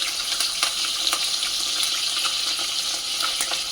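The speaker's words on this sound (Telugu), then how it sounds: "గుడ్లు వేయించేసి ఆ వేయించిన గుడ్లలోనే నేను ఇదిగో ఇలా ఫస్ట్ ఎండ్రాయిలు వేయించుకోవాలి కాబట్టి ఎండ్రాయిలు వేసేస్తున్నాను" Ingredients frying in a pan together with fried eggs, giving a continuous loud sizzle with scattered small pops. The sizzle is steady and close, with no talking.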